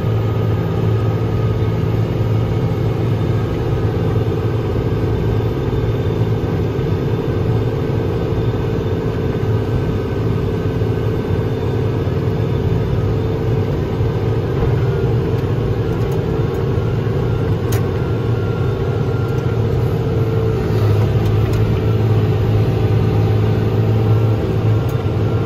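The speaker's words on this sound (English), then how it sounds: "It's a very tight turning tractor." A New Holland TG210 tractor with Super Steer makes a tight turn at a field headland, its engine holding a steady, loud low drone with a constant hum throughout and no speech.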